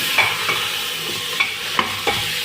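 A spoon stirs ground chili and ginger paste into rice cooking in a pan, scraping in several short strokes over a steady close sizzle, with no talk.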